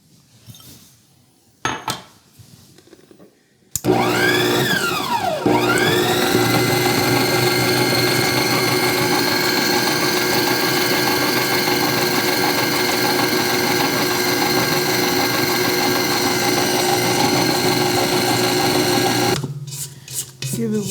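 An Acekool 660-watt tilt-head stand mixer, 7.5-quart bowl, kicks in with a fast start and runs at a steady loud whine with mechanical rattle for about fifteen seconds before stopping, preceded by a few faint clicks.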